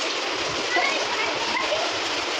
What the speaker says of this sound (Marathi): डेंजर मध्ये पाऊस यायला लागलाय.